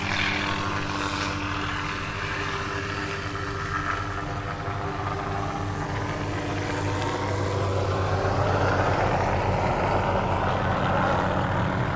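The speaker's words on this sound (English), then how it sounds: "Here's another one of those helicopters." A steady, loud rotor-and-engine drone of a helicopter passing nearby at an aerobatics championship, holding level for several seconds and swelling slightly toward the end.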